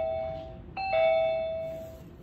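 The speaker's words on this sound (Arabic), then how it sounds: "طبعا عندنا الجرس هني مرتبط بسماعة داخلية." A smart door lock's doorbell chime plays through an indoor speaker, a bright electronic ding-dong with two sustained tones that ring out and fade, heard close and alone.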